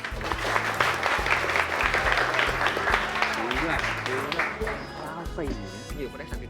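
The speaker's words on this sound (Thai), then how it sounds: "ผู้ขอเสียงปรบมือให้ชลิดานะครับ" Applause from an audience at a school anti-corruption drama performance, dense clapping running steadily throughout with music or tones underneath, tapering slightly near the end.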